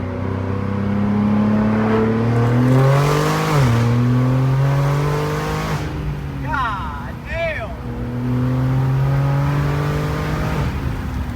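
A car out on a drive, its engine note rising and falling through gear changes as it accelerates, steady and close, with a brief lull midway and some chatter over the top.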